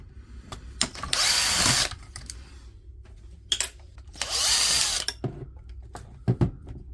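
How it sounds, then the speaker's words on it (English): A power driver spins out two screws from a Dewalt DCN660 nailer, two sharp whirring bursts of about a second each separated by quiet clicks and handling noises, close by. "Move the driver, it involves taking out these 2 screws as well."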